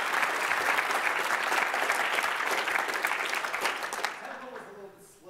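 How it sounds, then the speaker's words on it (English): An audience applauds the drummer of a band: a full, close burst of clapping that holds steady, then thins and fades out, and a voice begins speaking at the very end. "Give him a round of applause,"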